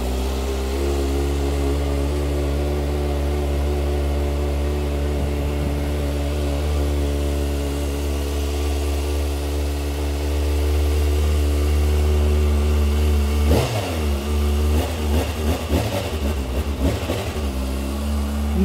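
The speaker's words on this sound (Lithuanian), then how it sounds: "Nudailus garsas to motociklo, nepiktybinis" Kawasaki motorcycle engine, a 2025 ZX6R or Z650, idling steadily after a cold start with a smooth, even low hum that swells briefly toward the end, close and loud with no talking.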